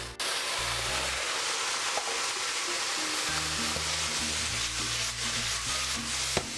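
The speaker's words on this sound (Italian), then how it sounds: "Poi olio nuovo, spicchietto di aglio schiacciato, vedete come sfrigola, dentro anche i pomodori senza pietà." Crushed garlic and tomatoes fry in fresh oil with a loud, continuous sizzle and occasional stirring scrapes, close up and free of talk.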